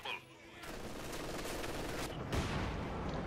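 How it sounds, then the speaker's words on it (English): Dense, continuous gunfire in the WWII strategy game Company of Heroes 2, with overlapping rifle and machine-gun bursts and explosions, including Panzer IV tank fire, forming a loud, unbroken barrage throughout. "A lot of fire there being directed against them."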